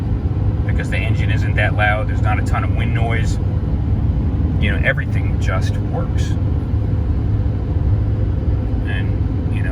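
A 2011 Chevrolet Silverado 3500HD dually with an LML Duramax diesel drives along, heard from the cab as a low, steady rumble beneath someone talking continuously.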